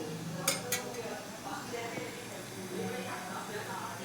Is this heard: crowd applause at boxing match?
no